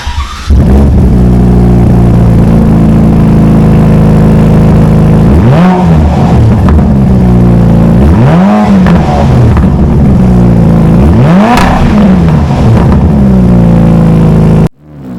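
A Ferrari Roma with a FabSpeed valve-delete exhaust fires up and settles into a loud, deep idle, then rises in three sharp revs that climb and fall back, all close and with no talking.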